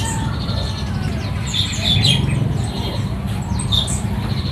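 Pentet matahari shrikes in a crowded bird shop give sharp, high, scattered chirps and tweets over a busy low murmur of background noise.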